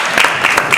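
Brief burst of audience clapping in a city council chamber, a dense, loud patter of many hands with a few sharper individual claps, short and continuous.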